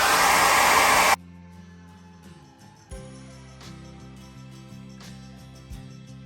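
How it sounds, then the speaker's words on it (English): A blow dryer roars loudly at close range for about a second, drying a wet surface, then cuts off, leaving quieter mechanical hums and clatters. "we're going to use a blow dryer to kind of dry that out"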